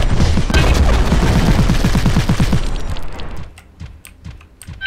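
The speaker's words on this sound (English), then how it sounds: "How did I get this stupid machine gun back?" Rapid automatic fire from a machine gun in the video game Armed to the Gears, a dense, loud burst of shots for about three seconds that thins into scattered distant pops.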